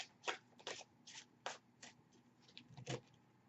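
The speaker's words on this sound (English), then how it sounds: "I'm only shuffling until they knock the cards out of my hands" Tarot cards being shuffled by hand in a quiet room, a series of short riffling bursts and soft scrapes coming in irregular rhythm, close and fairly faint, with no voices.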